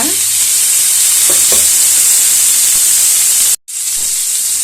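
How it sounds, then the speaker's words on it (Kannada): Bitter gourd fries in oil with turmeric and salt, a loud, close, dense sizzling hiss that carries on steadily, dropping out for a split second before resuming. "ಇದನ್ನ ಚೆನ್ನಾಗಿ ಫ್ರೈ ಮಾಡ್ಕೊಳ್ಳಿ, ಕಲರ್ ಚೇಂಜ್ ಆಗೋ ತರ."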